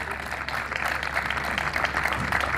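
Steady applause from an audience at a community gathering honoring a guest, dense and continuous clapping at moderate loudness throughout.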